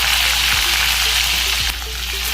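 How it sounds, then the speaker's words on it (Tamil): Chopped garlic hits hot oil with fenugreek seeds in a pan while a brinjal gravy is being cooked. The frying makes a steady, loud sizzle with a short dip near the end, and faint clinks of the pan can be heard underneath. "பொடியா நறுக்கி வச்சிருக்க பூண்டை இதுல சேர்த்துக்கலாம்"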